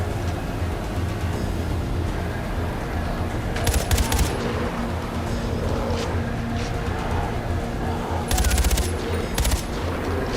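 Bursts of automatic gunfire in the video game Far Cry 4, two loud rapid volleys around the middle and near the end over a dense, continuous game soundscape of engines and ambience.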